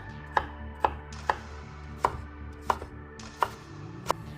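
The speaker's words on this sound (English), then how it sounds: "Now thinly slice shiitake mushrooms" Knife cuts thinly through shiitake mushrooms on a cutting board, seven crisp, evenly spaced chops heard close and clear over a steady low kitchen hum, with no talking.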